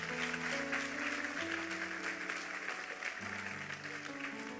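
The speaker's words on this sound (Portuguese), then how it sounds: "Pode aplaudir a Ele." A church congregation claps during a sermon, a moderate, steady wash of applause with musical tones, likely an organ or keyboard, sustained beneath it the whole way through.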